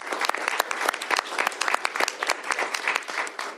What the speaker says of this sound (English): Please give them a big round of applause for their hard work.